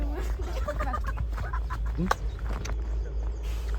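Fowl cluck and call in short bursts over a low steady hum, with faint chatter in the background.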